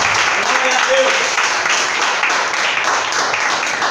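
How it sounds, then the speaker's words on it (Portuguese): A church congregation claps for Jesus, sustained applause that fills the room under a loud voice speaking over it throughout. "dê uma linda salva de palmas para Jesus"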